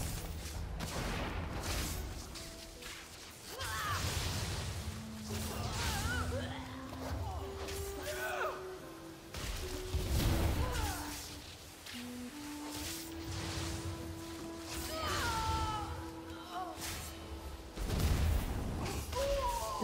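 World of Warcraft spell effects, including an arcane explosion, during the Tarecgosa blue flight quest: repeated booming bursts and crashes with ringing, swooping magical tones between them.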